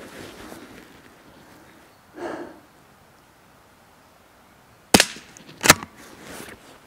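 A Blaser R8 rifle fires outdoors: two sharp, loud cracks land close together near the end, after a quiet stretch with one soft muffled bump.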